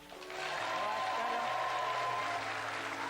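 A studio audience claps to vote for a contestant, the applause swelling quickly into a steady crowd roar, with a bright electronic tone sounding over it.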